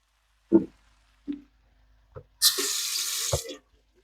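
A few soft knocks and clinks, then a little water splashes from a tap into a pan of cabbage and corned beef for about a second before stopping with a final thud.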